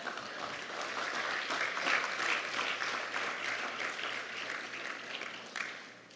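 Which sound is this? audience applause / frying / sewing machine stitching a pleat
audience applause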